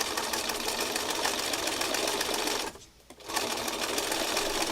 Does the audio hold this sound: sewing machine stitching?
yes